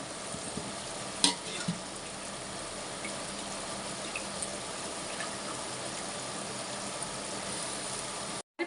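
Mullet fish curry simmering in a clay pot as chilli powder, salt and turmeric go in, giving a steady soft sizzle and bubbling with a couple of brief clinks, and no one speaking.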